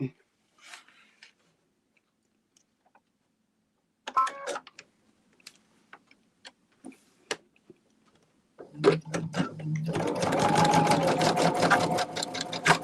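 Sewing machine stitching quilt blocks for an Alice in Wonderland sampler quilt, starting after scattered clicks and handling noises, then running in a steady loud whir near the end.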